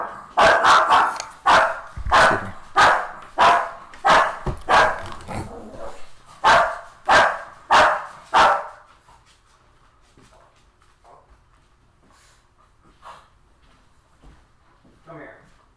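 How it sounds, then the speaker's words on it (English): A pet dog barks loudly and close in a steady run of about a dozen deep barks. A person's voice comes in briefly, and after the barking stops there is a quieter stretch with faint sounds. "He sounds like a really vicious dog"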